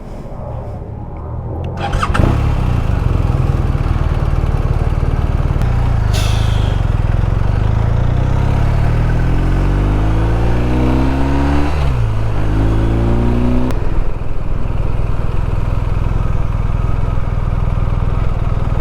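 A motorcycle engine with keyless ignition starts after a short crank, settles into a loud, close idle, then revs up and down several times in rising and falling sweeps before dropping back to idle.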